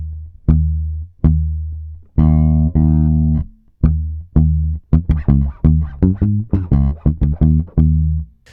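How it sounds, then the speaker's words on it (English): Muted, staccato bass guitar notes in a funk groove, the left-hand fingers damping each fretted note right after it sounds; short, percussive plucks repeat in a steady, busy sixteenth-note rhythm, close and clear with no talking. "he actually uses his three other fingers of his left hand just after the note that you're fretting to get this kind of sound."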